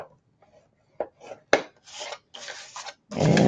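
Paper being scored at half-inch intervals while making a Halloween flip book: a run of short dry scraping strokes, close and moderately loud, ending in a longer, rougher rasp.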